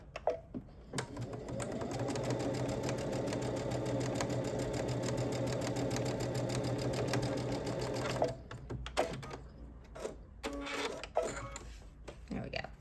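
A sewing machine stitches quilted Christmas stocking pieces in one steady, fast run of about seven seconds, then stops, followed by intermittent clicks, fabric handling and a few bumps.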